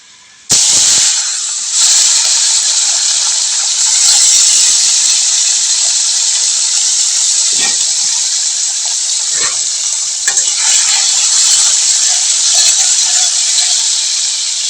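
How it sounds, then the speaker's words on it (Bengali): Turmeric-and-salt-rubbed fish frying in hot oil, a loud steady sizzle and hiss starting abruptly and running continuously, with faint clinks of utensils underneath and no talk. "এখন মাছগুলো ভেজে নিব"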